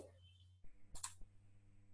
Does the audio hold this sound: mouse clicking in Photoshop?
yes